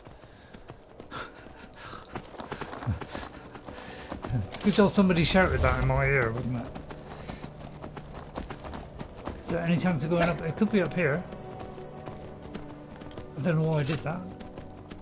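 Hoofbeats of a horse, here a unicorn, being ridden in Skyrim AE on PS5, clopping steadily and fairly close while someone talks over it in bursts.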